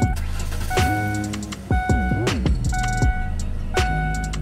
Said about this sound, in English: we're gonna crank the truck up and make sure it has oil pressure